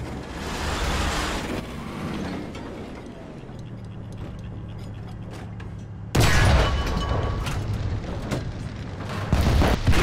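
Tank cannon fire and an enemy tank destroyed in War Thunder ground forces battle, a rumbling engine bed with a heavy boom that cuts in sharply midway and lingers as loud roaring noise.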